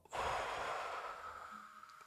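A single deep breath during a yoga breathing exercise, a soft airy exhale that starts abruptly, swells, then tapers off gently, close to the microphone with no talking.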